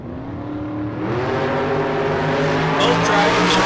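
Drag race cars, a Mustang and a 27 Brogy-style Roadster, roar off the line together, engines rising in pitch as they accelerate hard down the strip, loud and close with a smooth building whine.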